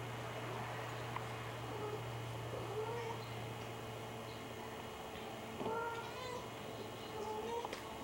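Kittens meow in short, rising calls scattered through the stretch, mostly moderate and close, over a steady low hum with faint voices around them.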